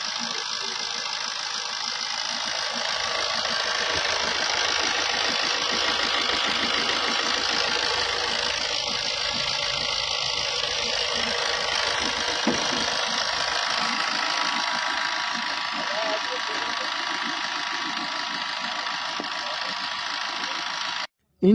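A 2007 Maruti Suzuki Swift LDI diesel engine idles steadily close by, a continuous even rumble with a busy mechanical clatter that holds without breaks throughout.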